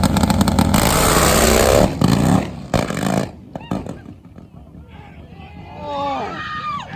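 A Pro Fuel Harley Davidson nitro drag bike races down the strip, a loud, harsh engine roar that fills the first two seconds and then cuts off abruptly, leaving scattered bursts, crowd noise and faint, warbling calls.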